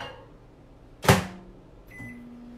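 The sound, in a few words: microwave oven heating chicken stock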